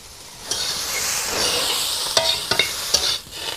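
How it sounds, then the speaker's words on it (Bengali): Vegetables with turmeric sautéing in a pan, a steady bright sizzle with several sharp stirring scrapes toward the end. "হলুদ দিয়ে দিয়েছি, দিয়ে কিছুক্ষণ সবজিটাকে কষিয়ে নেব।"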